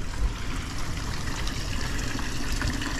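A small statue fountain, a child figure drinking, trickles water in a gallery in Búzios town centre, producing a steady, unbroken splashing wash close by with no voices over it.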